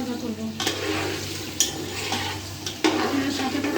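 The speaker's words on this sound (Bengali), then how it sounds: "এখন আমি আলুটাকে সুন্দর করে ভাজা ভাজা করবো।" Potatoes seasoned with salt and turmeric sizzle steadily as they fry in a pan, with a few sharp utensil scrapes and clinks as they are stirred, close up and with no talk.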